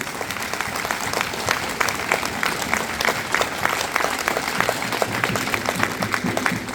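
Loud, sustained applause from an audience at a Sanskrit language gathering fills the room, a thick continuous crackle of many hands clapping with crisp individual claps standing out, going on for several seconds.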